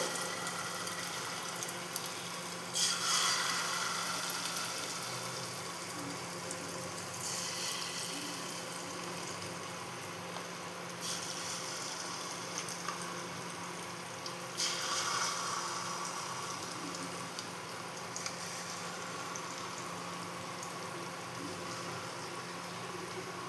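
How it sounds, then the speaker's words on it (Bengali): Posto bora, small poppy seed fritters, frying in hot white oil in a kadai: a steady, fairly quiet sizzle and hiss that carries on throughout, with a few brief louder bubbling bursts. "এবার আমি বড়াটা ভেজে নেব।"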